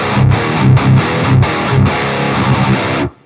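Heavily distorted metal guitar played through an Ampknob S_Zero 100 amp with a vintage cab setting, delivering loud chugging palm-muted riffs with brief rhythmic gaps before cutting off abruptly.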